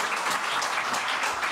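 Studio audience at a Dutch talk show applauding a band, a dense, steady wash of clapping close and loud throughout.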